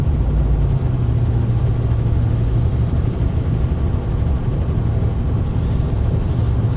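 A car fitted with JBA shorty headers under steady acceleration, heard from inside as a constant, loud, low-pitched engine drone with road rumble and no talking.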